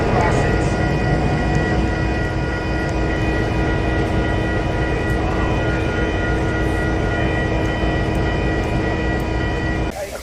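A steady, loud rumble of an eastbound train on a railroad line carries on continuously with tonal hum and wheel rattle, with no breaks throughout.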